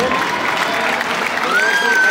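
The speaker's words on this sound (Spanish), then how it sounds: "con un fuerte aplauso, señores." Sustained applause from a crowd at a charrería event in a lienzo charro arena in Ciudad Juárez, Chihuahua, steady and fairly loud, with a brief whistle-like tone near the end.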